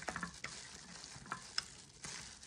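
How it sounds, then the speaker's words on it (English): A spoon stirs chicken with a mustard marinade in a bowl, making close, wet, uneven scrapes and squelches in short repeated strokes at a low level, with no talking. "from there, we're gonna mix it up"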